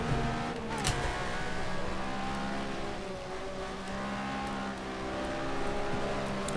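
In a racing video game, a Jaguar race car's engine howls close behind, loud and sustained with shifting pitch as the cars race toward Blanchimont, mixed with the player's own engine drone.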